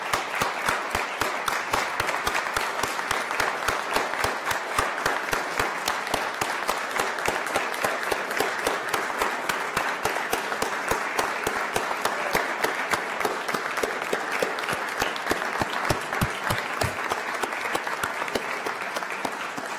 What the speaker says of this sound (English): I ask all guests here to join me in applauding our state legislature.